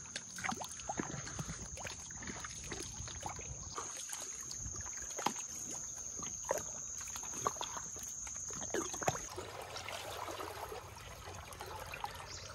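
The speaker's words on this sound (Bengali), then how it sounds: "তাও তাহলে নৌকাটাকে ঠেলে বের করি।" A wooden boat is shoved out toward a river after heavy rain. Irregular knocks, scrapes and splashy thumps come at close range over a faint continuous hiss, and the hiss drops away near the end.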